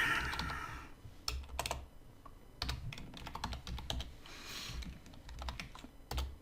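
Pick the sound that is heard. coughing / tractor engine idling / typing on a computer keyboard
typing on a computer keyboard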